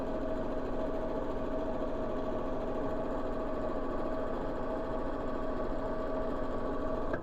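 A domestic sewing machine runs steadily while stitching straight lines, a continuous close mechanical hum with a faint whine that stops abruptly at the very end.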